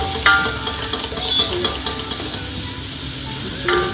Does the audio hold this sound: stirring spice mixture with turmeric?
yes